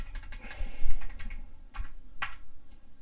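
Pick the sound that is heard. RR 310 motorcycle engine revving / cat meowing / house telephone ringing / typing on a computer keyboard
typing on a computer keyboard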